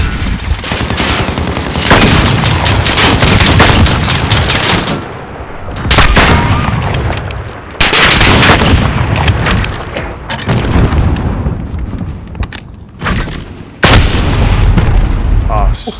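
Dense, loud gunfire bursts and booming frag grenade explosions in a Modern Warfare match on the Shoothouse map, nearly continuous with brief lulls and talk over the top.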